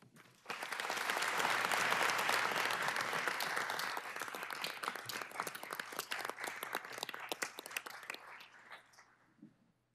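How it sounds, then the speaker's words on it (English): Audience applause during a 2019 State of the City address, rising quickly to a full, dense ovation, then thinning into scattered individual claps that fade out. "We applaud you, sirs."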